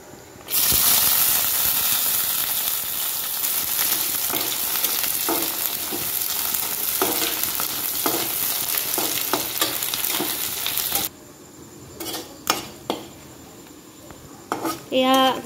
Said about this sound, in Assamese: এয়া মাছকেইটা ভজা হৈ গ'ল